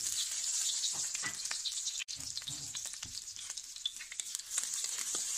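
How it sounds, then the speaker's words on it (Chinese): Minced garlic and ginger sizzle in a little leftover oil in a wok, a continuous soft crackling hiss with scattered pops and a brief clunk partway through. "锅里面留少许油，把这个蒜末和姜末倒进去"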